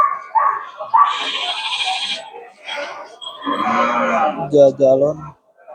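Sheep bleat at a busy livestock market, several harmonic calls standing out near and loud, with a trader's voice and crowd noise around and between them.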